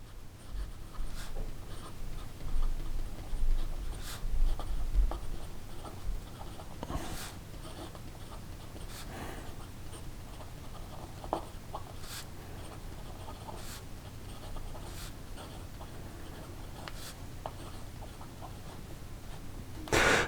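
A Platinum 3776 Carnelian fountain pen moving across paper, a faint, close scratching of the nib with scattered sharp ticks as strokes begin and end, steady and quiet throughout with no talk.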